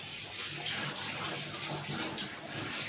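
Tap water runs in a steady, close gush into a sink while fish is washed for a curry.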